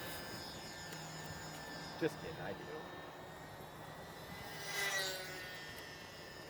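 A Horizon Hobby Carbon Cub SS UMX model plane fitted with floats and tundra tires flies outdoors, its small electric motor giving a thin, steady whine that swells and fades as it passes. A voice talks over it.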